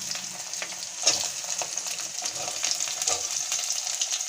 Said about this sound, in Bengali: এবার রসুনটা ফোড়ন দেবো।